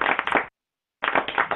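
Clapping hands at a Christian music college session, a dense burst of claps for about half a second, a short silence, then a second longer round of loud, steady clapping.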